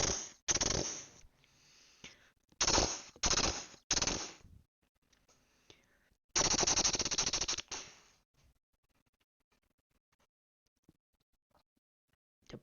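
A voice imitates Halo 1 gunfire with rough, breathy bursts of mouth noise: a long burst, then a few short rapid ones, then a longer final burst that trails off into near silence.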